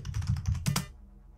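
Rapid clattering keystrokes on a computer keyboard in a typing-based indie horror game, a quick burst of close clicks ending in one sharper press before fading.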